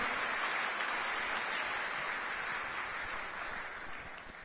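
A church congregation applauds after the reading of the word of the Lord, a dense, continuous wash of clapping that stays loud and then fades slightly toward the end.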